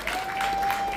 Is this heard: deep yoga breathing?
no